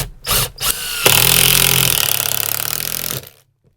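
A power drill drives 38mm self-drilling, self-tapping screws through wooden wall cladding into the metal of a camper van conversion. After a few short bursts, it gives one loud, steady whine that lasts about two seconds and then stops.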